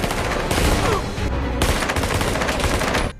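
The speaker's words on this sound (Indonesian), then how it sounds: "Dan sialnya, Alex mati tertembak, sementara Espin juga terkena tembakan di kakinya." Dense bursts of gunfire from an action film, rapid automatic shots in loud continuous volleys that cut off abruptly at the end.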